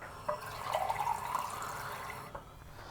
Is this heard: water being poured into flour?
yes